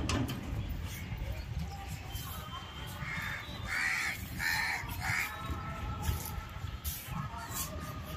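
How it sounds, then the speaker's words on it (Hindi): A crow caws several times in a row at a moderate distance over a low, rumbling background with faint voices. "देखो कौवा उधर है,"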